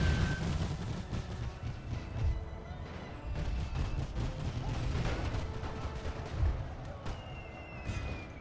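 Dense, continuous gunfire and booming artillery fill a chaotic First World War battle in The Great War Mod for Napoleon: Total War, with volleys crackling over a constant roar and no single shot standing out.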